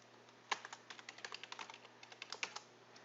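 Keys on a computer keyboard are tapped in a quick, uneven run of light clicks while a username is entered, close and clear over a faint steady hum, with no voices.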